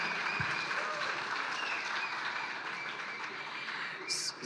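Conference audience at the opening session of a summit in Miami gives a steady round of applause, a broad, moderately loud clapping wash with faint speech briefly cutting in near the end.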